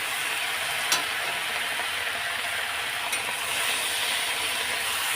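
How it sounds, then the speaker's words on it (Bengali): Bottle gourd greens sizzle in a frying pan tempered with five-spice and a dried chilli, with a steady close crackle and two sharp clicks as a utensil stirs them; no voices. "এই যে লাউ শাকটা দিয়ে দিলাম, এই যে দিয়ে একটু নাড়াচাড়া করে নেবো"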